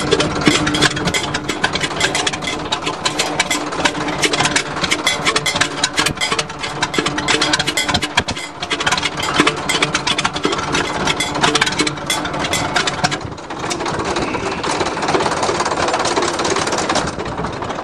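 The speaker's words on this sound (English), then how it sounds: "Barely running now, 100 RPM." Old bulldozer engine idling at very low RPM with exhaust leaks, a steady loud rough chugging rumble running throughout, close up and unbroken, with no talking over it.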